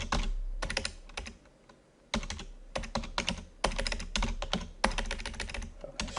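Bursts of quick typing on a computer keyboard, close and clear, with short pauses between clusters of clicking keys and no voice over them.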